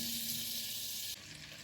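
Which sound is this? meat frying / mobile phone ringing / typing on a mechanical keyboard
meat frying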